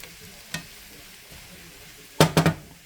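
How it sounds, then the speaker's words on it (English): Onion and sauce sizzle softly in a frying pan, broken by a single scrape of a utensil and then a quick cluster of louder scrapes and knocks against the pan near the end. "and stir that around"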